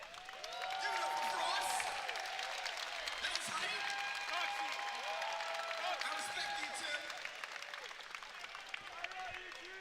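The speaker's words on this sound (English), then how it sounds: "A round of applause," A crowd at a Mortal Kombat 11 tournament at CEO 2019 applauds and cheers in a sustained, moderately distant wash of clapping, with commentators talking over it.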